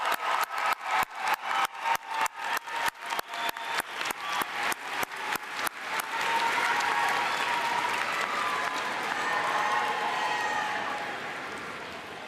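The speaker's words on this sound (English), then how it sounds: "Let's get another round of applause for those graduates." Applause for graduates at a University of Northern Colorado spring commencement ceremony, starting as sharp, separate, rhythmic claps that blend into a broad, sustained wash of clapping from a large audience before slowly fading.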